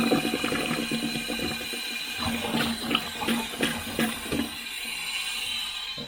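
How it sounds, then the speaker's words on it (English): A household toilet flushes and its cistern refills, giving a steady rush and hiss of running water with gurgles and splashy bursts, close and continuous throughout. "Flush the toilet."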